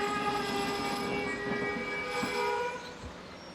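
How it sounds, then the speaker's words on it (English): An Austrian Class 1142 electric locomotive heading a passenger train glides to a halt, with a steady hum and faint high brake or wheel tones that fade as it stops, heard from trackside. "1142 number 705 glides to a halt whilst heading the 1844 terminating service from Graz"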